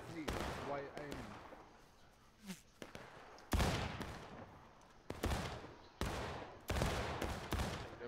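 Musket volleys in the video game War of Rights crack out in rolling, ragged bursts of many shots, with distant echoing reports and several separate volleys spread through the clip, faint voices in between.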